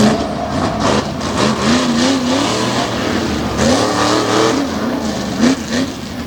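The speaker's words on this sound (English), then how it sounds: "this big blue Baja Bronco heads into the first full turn" A big blue Baja Bronco monster truck, a Foy Toy clone, races into a turn at Lake Erie Speedway, its loud engine rising and falling in pitch through the corner, close and steady, with faint talk.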